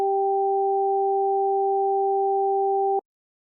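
Two steady test tones, one high and one low, each held in a separate ear of a stereo headphone check, sound together without a break for about three seconds and then cut off abruptly.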